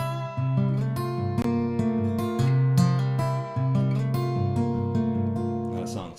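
Fingerstyle acoustic guitar plays a song, with clear plucked notes, ringing bass and a steady rhythm, close and solo with reverb.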